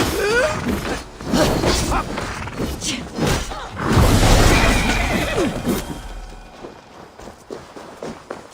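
A horse neighs and whinnies in Assassin's Creed Valhalla, several loud calls mixed with hoof thuds and footsteps in a Francia night setting, fading toward the end.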